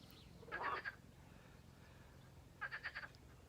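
Frogs croak outdoors in two short rattling bursts separated by a pause of about two seconds, fairly faint against a quiet background.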